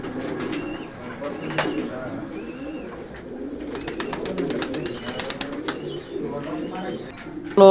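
Racing pigeons in a loft coo and murmur continuously, with occasional wing flaps and chirps, while someone talks over the birds.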